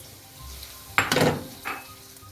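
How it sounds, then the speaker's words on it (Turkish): Minced meat drops into a hot frying pan of sautéed carrots and onions for a cauliflower dish, giving a sudden loud sizzling burst with a utensil clatter, then a second smaller hiss, with no talking. "Havuç ve soğanlarımız biraz sotelendi. Kıymamızı koyuyoruz."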